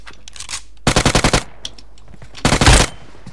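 UMP submachine gun fire in the mobile battle royale game PUBG Mobile: a rapid burst of about seven sharp shots, a lone shot, then a shorter dense burst, all loud and close.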